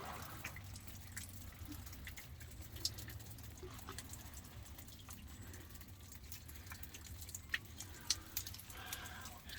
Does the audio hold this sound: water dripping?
yes